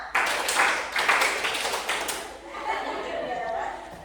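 Hand claps keep a counted beat in a classroom game, a sharp clap roughly every half second in a steady run, with a teacher's voice and children's voices talking over them.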